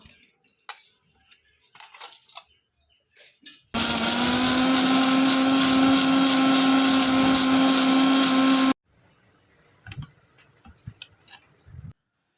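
An electric blender grinds soaked raw rice in one loud, steady whir lasting about five seconds, framed by clinks and handling noises before and after.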